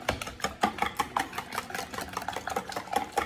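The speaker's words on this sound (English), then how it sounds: "whisk that up" A whisk beats a quiche egg mixture with dill in a bowl, giving quick, steady clinking and sloshing strokes at close range, fairly soft and without talk.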